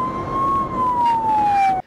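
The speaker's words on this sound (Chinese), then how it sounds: "警车凌晨在西滨公路以时速140公里狂飙" A police car siren wails loudly and close by as the car speeds at about 140 km/h along the Xibin coastal highway before dawn. The tone sweeps down slowly, then cuts off abruptly.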